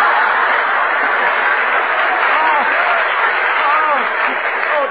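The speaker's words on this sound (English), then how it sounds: "Hey, Confucius, clap hands." Steady applause from a radio show studio audience fills the whole stretch, dense and continuous without breaks.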